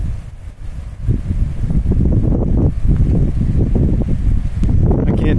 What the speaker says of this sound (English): Ooh, the wind's picking up.